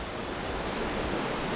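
Rough ocean surf rolls against the shore, a steady, dense roar of churning water and wind with no breaks or talk over its short length.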